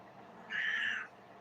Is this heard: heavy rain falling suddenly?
no